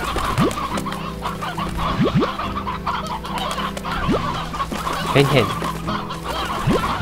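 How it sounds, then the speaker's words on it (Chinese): Two roosters in the farming video game Slime Rancher cluck steadily, loud and close, with a few rising chirps and a low background hum. A voice briefly speaks over them. "公鸡有两只啊。"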